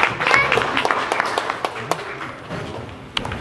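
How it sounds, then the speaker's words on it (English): An audience applauds for young ballet dancers, with scattered claps and crowd noise that swell briefly and then thin out, and some voices mix in. "Shall we give them a round of applause?"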